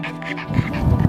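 A group of senior dogs at a dog rescue in Tehachapi, California whine and yelp close by, their vocalising rising into a busier, overlapping chorus toward the end.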